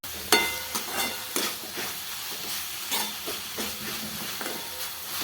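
Ridge gourd vegetable sautéing in a pan with soaked moong dal to be added, a soft steady sizzle and hiss broken by periodic stirring clinks and scrapes, close and alone.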